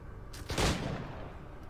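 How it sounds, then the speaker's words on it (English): Gunfire in the pirate-era video game Assassin's Creed 4 Black Flag: a short burst of shots around the middle, fairly loud against a steady background ambience, with no talking. "I can hear gunshots"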